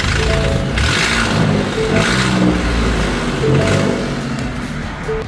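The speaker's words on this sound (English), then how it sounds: "what does the truck sound like if it doesn't have all of its manifold bolts in?" A 2017 Ford F-150 EcoBoost truck engine with an exhaust manifold leak from missing or snapped manifold bolts runs steadily, loud and close, with a rough, raspy drone and a few swells in level and no speech.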